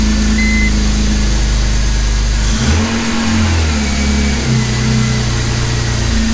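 A BMW E46 M3 engine with its mass airflow sensor unplugged runs loud and close, holding a steady drone before dropping to a smoother, lower idle with shifting tones partway through.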